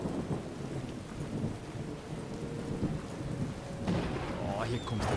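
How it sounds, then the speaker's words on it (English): Rain and thunder in the modded video game Skyrim form a continuous hiss with low rolling rumbles at moderate volume, and a brief tonal whine and scrape near the end. "here comes the damn rain again"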